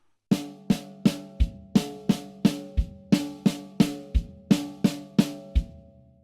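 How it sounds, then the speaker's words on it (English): A drum kit plays a quick repeating drag rudiment pattern of snare strokes with booming bass drum hits woven in, steady and close, sixteen or so sharp strikes. "adding a bass drum to the rudiment"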